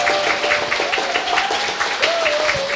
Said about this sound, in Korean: 다시 한번 스님께 큰 박수 부탁드립니다